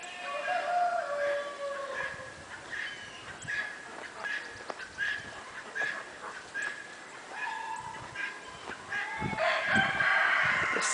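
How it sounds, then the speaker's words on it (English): Hens cluck and a rooster crows repeatedly on a farm, with a dog whimpering and barking among the birds; the calls are fairly close and continuous, with no talking. "Got more chickens over there."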